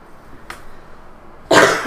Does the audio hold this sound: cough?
yes